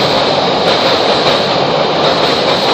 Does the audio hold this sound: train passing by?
yes